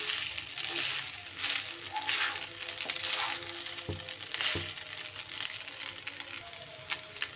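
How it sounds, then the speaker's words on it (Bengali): Vegetables that were fried earlier get stirred and mixed in a cooking pan, giving a steady crunchy scraping and sizzling texture with a few sharp utensil knocks against the metal, close and fairly quiet, with no talking. "ভেজে রাখা সব সবজিগুলো দিয়ে দিলাম। সবজিগুলো দিয়েও একটু মিশিয়ে নিতে হবে"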